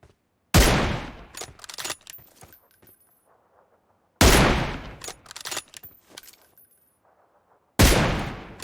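Gunfire in the mobile shooter PUBG Mobile: three loud, close volleys of rapid automatic shots spaced a few seconds apart, each followed by a fading tail of clattering sounds and quieter gaps.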